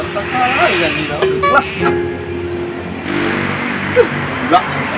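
A bus and a car pass along a road with engine rumble rising and falling, under steady talk from people nearby.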